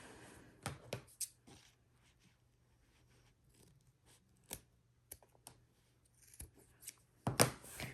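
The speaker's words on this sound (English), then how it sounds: "we're just going to cut our zipper even with our material" Paper scissors snip through a zipper tape for a sewing pouch, producing a series of sharp, close crunching cuts at irregular intervals with quiet pauses between, the loudest cluster near the end.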